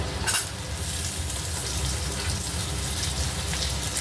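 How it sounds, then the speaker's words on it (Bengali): Diced pumpkin tipped into a pan of frying potatoes for a Bengali kumror chakka, giving a steady, close hiss of sizzling oil with a brief clatter at the start. "আলুগুলো মোটামুটি ভেজে নিয়েছি এবার এর মধ্যে আমি কেটে রাখা ডুমো ডুমো করে কেটে রাখা কুমড়োগুলোকে দিয়ে দেবো"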